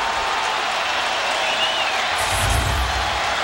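Football stadium crowd at a 2000 Miami vs West Virginia game, a dense continuous roar of cheering and applause that swells slightly toward the end.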